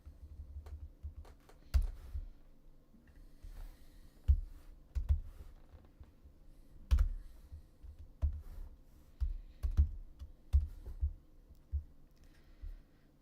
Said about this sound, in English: Probably should work on my typing speed.